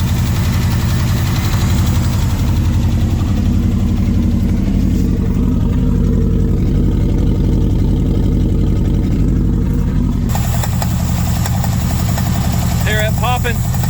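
A 1971 Ford F100 with an FE 360 V8, abandoned for 39 years, idles loud and close with a steady rumble and a lifter tapping, while someone talks over it.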